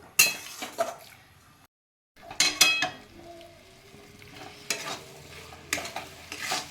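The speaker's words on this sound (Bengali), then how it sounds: "আমার নাড়ুটা এখন ফুটছে" Coconut and jaggery naru mixture cooking in a wok on a gas flame, with intermittent metal spatula scrapes and clinks against the pan over a low bubbling background and a brief silent gap.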